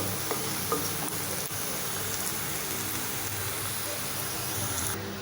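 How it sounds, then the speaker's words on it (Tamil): Ground garlic paste sautés in oil in a kadai for a garlic pickle, giving a steady, moderate sizzle with scattered crackles and faint stirring. "வச்சுட்டு நம்ம அரைச்சி வச்சுருக்கிற பூண்டெல்லாம் போட்டு வதக்கிக்கலாம்."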